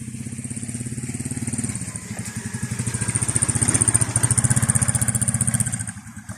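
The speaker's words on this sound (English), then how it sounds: "Motorcycle coming." A motorcycle engine putters close by with a rapid pulsing rhythm, swelling louder as it approaches and then dropping away.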